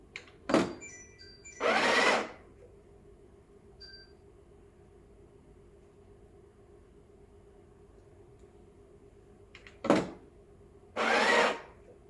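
A Breville Barista Express BES870 espresso machine's built-in grinder whirs in two short, loud bursts of about half a second each, roughly nine seconds apart, with a few small clicks and a faint steady hum in between.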